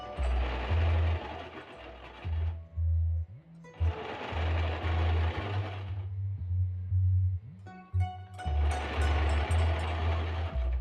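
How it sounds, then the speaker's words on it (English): A sewing machine top stitching lace onto a garment runs in three long bursts of steady, close motor whirring, with short pauses between them and no talking. "I am adding another lace to the bottom and top stitching it for a neat finish"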